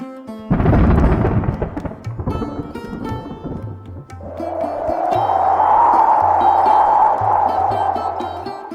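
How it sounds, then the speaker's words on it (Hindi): Strong wind howls before a storm, a broad steady roar swelling over several seconds after a heavy rumbling burst at the start, with a low tonal hum underneath. "हवा की आवाज सुन रही है? आज बहुत तेज तूफान आएगा।"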